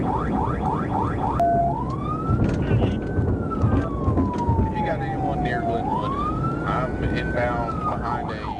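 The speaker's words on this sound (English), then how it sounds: "keeping his distance while the siren and lights were activated" Police car siren wailing during a vehicle pursuit, a long rising and falling tone with faster yelping bursts at start and end, loud over road and engine noise, with voices underneath.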